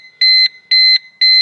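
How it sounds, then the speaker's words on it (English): Three loud electronic beeps from a Volkswagen Corrado VR6 alarm repeat at an even pace, each a sustained two-tone blare separated by short silences, with the engine running. "That's the alarm going off there now."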